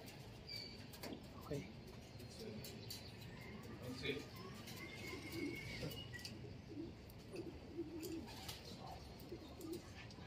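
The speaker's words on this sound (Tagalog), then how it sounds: "Another bird. Spotting the landing board." Racing pigeons arrive at the loft landing board, with soft repeated cooing and scattered chirps over a steady outdoor background, fairly faint throughout.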